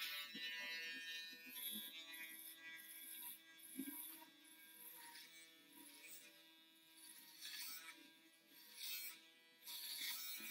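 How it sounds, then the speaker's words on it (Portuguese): An electric shaver buzzes along the back of the head during a high skin fade haircut, a thin steady whir that fades and returns as it moves, faint and close, with a voice speaking at moments. "Vou utilizar aqui a shaver agora, começando pela essa parte de trás."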